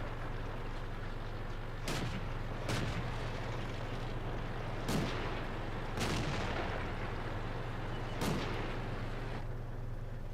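Tank cannon fire in World of Tanks, with about five sharp booming shots spaced several seconds apart over a constant low engine hum, heard at moderate loudness.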